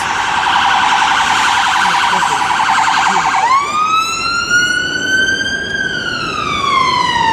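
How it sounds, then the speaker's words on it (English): A loud ambulance siren wails steadily up close, its tone rising and sweeping as it continues without pause. "every second is an ambulance, man. Never a quiet moment."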